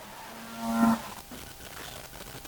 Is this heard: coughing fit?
no